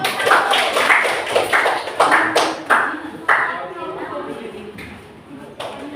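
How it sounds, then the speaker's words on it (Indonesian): A classroom of students claps in a rhythmic pattern, a series of sharp claps in quick clusters that fades out after a few seconds, close and fairly loud, with voices briefly audible. "beri tepuk tangan"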